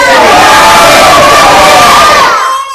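A crowd answers a takbir call at a devotional gathering for the Prophet with a loud, sustained mass shout lasting over two seconds, which then cuts off abruptly into quiet.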